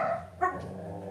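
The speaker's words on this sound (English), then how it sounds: "Those are our dogs, Mike." Dogs bark indoors in a short, close burst with a yip, heard alone without talk.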